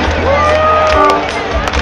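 A live rock concert audience in Lima claps and cheers in a dense, loud crowd roar, with a voice carrying over it throughout.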